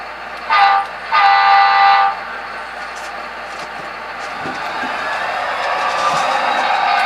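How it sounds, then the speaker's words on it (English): A model passenger train running on a large model railroad layout, with two short horn blasts followed by a steady rolling rumble that slowly grows louder as it approaches. "what we're going to do is start to run the passenger train through"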